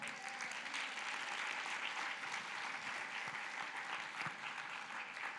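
A church congregation claps steadily in a continuous, even burst of applause filling the whole stretch, fairly distant and without pauses or voices.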